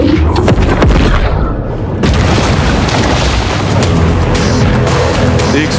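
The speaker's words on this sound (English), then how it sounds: "The explosion has drawn unwanted attention." A loud, booming explosion goes off in the shark video game Maneater, then gives way to a dense, continuous rumble and crackle of debris that stays loud to the end.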